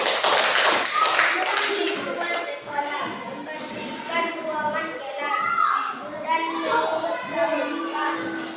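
Children in an Indonesian primary school classroom clap together in a burst of rapid taps, mixed with young voices and shuffling nearby, fading into scattered claps and chatter.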